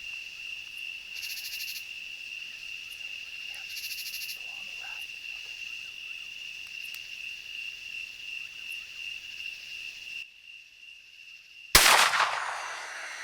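A double-barrel shotgun fires a single loud blast at a hog near the end, after a long stretch of steady night insects and frogs, followed by a brief fading tail.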